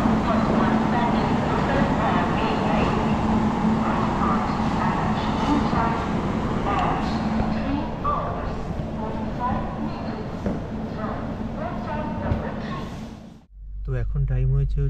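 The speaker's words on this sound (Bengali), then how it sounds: "ট্রেন এখন বর্ধমান জাংশন ঢুকলো" Darjeeling Mail train pulling into Bardhaman Junction at night, a continuous loud rumble of wheels and carriage noise with clatter, persisting until a sudden drop to near quiet near the end.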